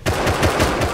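AK gunfire in the Rust survival game during a satchel raid, a rapid loud burst of automatic shots in quick succession, close and continuous for about a second.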